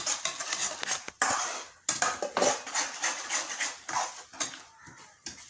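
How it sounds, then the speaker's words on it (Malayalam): A spoon scrapes and clatters against a pan as a dish is stirred, in repeated close scraping strokes with short pauses between them. "നല്ലോണം ഒന്ന് ഇളക്കുക"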